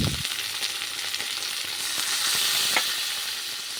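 Chicken meat rubbed with turmeric and salt hits fried onions in a pressure cooker pot for Kolkata-style chicken biryani, giving a steady close sizzle and crackle with soft stirring scrapes and no talk.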